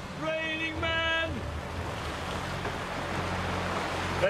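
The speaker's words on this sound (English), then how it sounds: "That's thunderstorm number 4 rolling over us" A thunderstorm rolls over a sailboat at sea, with wind gusts up to 45 knots and rain making a constant loud roar. A voice is heard briefly at the start.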